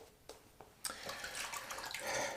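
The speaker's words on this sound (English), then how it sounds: "I'm going to add some water to that." Water is added to a traditional shave soap lather being built while testing a prototype soap, with faint splashes and trickling that build into a louder wet swishing near the end.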